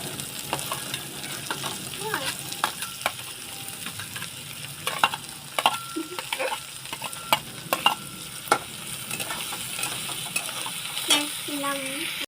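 Onion and capsicum fry together in a pan for pav bhaji, a low steady sizzle broken by frequent clinks and scrapes of a spatula stirring against the metal.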